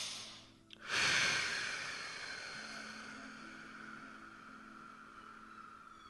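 One slow, deep meditative exhale begins with a sudden soft rush of air and then fades gradually over several seconds. It sits over a faint sustained tonal background.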